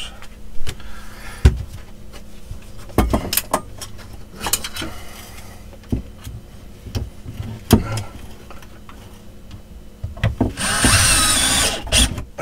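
A power drill drives a couple of screws into an apartment wall to secure a tightened wire, giving short, loud whirring bursts separated by pauses and a longer burst near the end.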